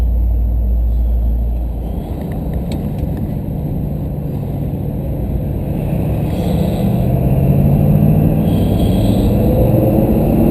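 A car drives up onto the I-5 freeway heading north in Seattle, its steady engine rumble and road noise loud and continuous, with the pitch rising slightly as it gathers speed.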